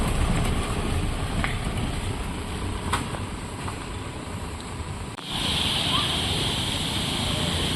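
A steady rushing wash of water flows from a waterfall spilling across a path near a temple in the hills, broadband and continuous, growing slightly louder near the end.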